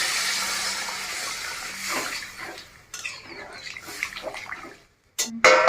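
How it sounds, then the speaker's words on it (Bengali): Water is poured into a pan of frying vegetables (drumstick and potato for a vegetarian Bengali curry), giving a loud steady hiss and sizzle that fades, followed by scattered clinks of a utensil against the pan. "সবজিটা ভাজা হয়ে গেছে, আমি এখন জল দিয়ে দিচ্ছি।"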